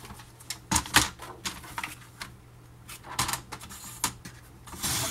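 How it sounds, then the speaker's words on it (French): Scrapbook paper is cut for a page base with a crafting tool, heard as close, crisp snaps and clicks in irregular bursts with short pauses between them. "je vais couper ici"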